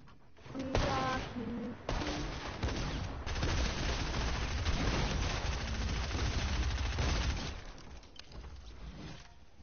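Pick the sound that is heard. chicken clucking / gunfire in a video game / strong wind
gunfire in a video game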